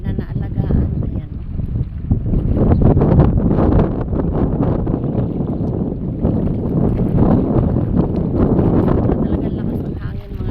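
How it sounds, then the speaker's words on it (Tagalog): Strong wind off the sea buffets the microphone with loud, gusty low rumbling throughout, and a voice speaks faintly beneath the roar. "Talagang lakas ng hangin"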